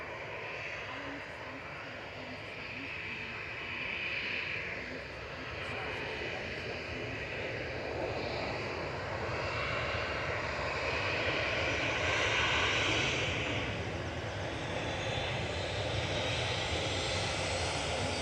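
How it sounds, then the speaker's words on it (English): A Ryanair airliner departing Manchester Airport on a flight to Gran Canaria gives a steady, broad jet roar that slowly swells and fades at a distance, with faint talk beneath. "Ryanair departing now to Gran Canaria."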